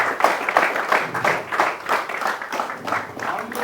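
Audience clapping in a crowded hall, dense and continuous with pulsing swells of hands over the few seconds, fairly close and loud.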